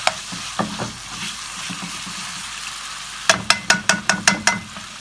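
Potatoes cooking in a pot of boiling water give a steady bubbling, sizzling hiss with a few soft knocks, then a quick run of about eight rhythmic metallic taps from a utensil against the pot.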